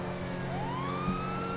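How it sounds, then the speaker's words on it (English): A police car siren in the video game LSPDFR for GTA V wails in a single rising sweep, moderately loud over a low engine hum, with no talking. "I'm gonna cut my siren off just so it doesn't spook them out."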